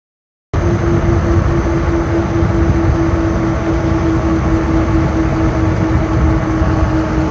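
Train rolling past during an e-bike ride in Henry County, Georgia, a steady loud rumble with a sustained tonal hum holding evenly from start to finish, no talk over it.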